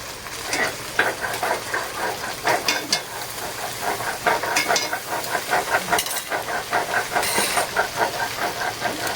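A spice masala with tomato, garlic paste, chilli paste, turmeric and salt fries and sizzles steadily in a pan, with repeated scraping stirs over a continuous hiss and no voices.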